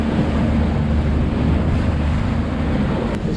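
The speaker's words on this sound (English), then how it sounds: "Looks like we got some waves today." Ocean surf rolls in at a Cape Verde surf spot during a winter swell, a loud, steady roar of breaking waves mixed with wind buffeting the microphone.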